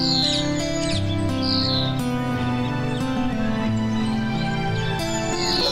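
Cartoon birds chirp and tweet in a large palace garden, bright repeated calls laid over a continuous musical background throughout.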